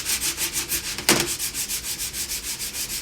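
Rhythmic scrubbing strokes of a crumpled aluminium foil ball on a dirty grill pan, quick and evenly paced, rasp against the hard surface up close, with one sharper scrape partway through.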